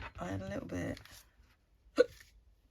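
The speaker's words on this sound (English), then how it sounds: "had a little bit of hiccups" A single short hiccup, fairly loud and sharp, follows a stretch of a person talking and a brief pause.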